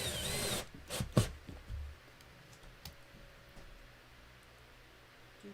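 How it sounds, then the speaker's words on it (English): Short bursts of a power drill driving the last screws into an arcade cabinet, two or three quick whirs at the start, then a quiet room with faint ticking. "I'm just gonna lock in the last 2 screws for player 2 here."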